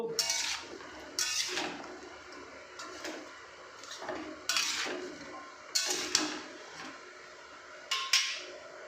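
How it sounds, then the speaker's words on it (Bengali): Vegetables are poured into a pan and stirred for an oil-free Bengali mixed vegetable dish. Fairly quiet, irregular metallic clanks and scrapes of utensil against pan recur every second or so. "আসল সবজিগুলো ঢেলে দিলাম একটু নাড়িয়ে নেব"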